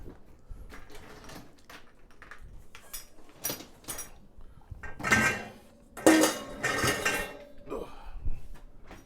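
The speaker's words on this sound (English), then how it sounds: "Might as well load the dishwasher while I'm" Dishes and cutlery clink and clatter in a series of sharp knocks as they are loaded into a dishwasher, with a few louder bursts of plates being set down close by.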